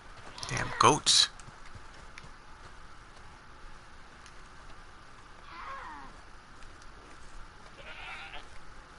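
A goat in Red Dead Online gives two loud, close bleats at the start, then fainter bleats follow later over quiet game ambience.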